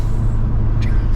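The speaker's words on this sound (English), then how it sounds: "The dump valve's loud though." An 1980s Fiat Uno Turbo engine rumbles steadily up close, then its dump valve vents a short, sharp hiss partway through.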